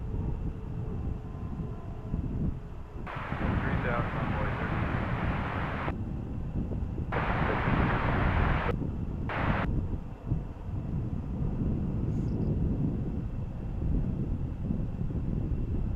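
A Boeing Dreamliner airliner takes off at DFW International Airport, its engines producing a loud, sustained roar with heavy wind rumble that holds steady across the whole stretch, no voices present.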